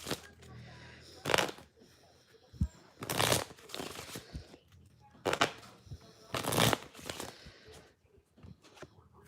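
Playing cards shuffled for a tarot reading, in four loud riffling bursts separated by softer handling and tapping sounds, close and clear.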